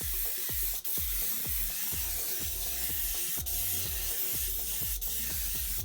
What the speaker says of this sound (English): You want to be careful of how you spray them so you don't overlap too much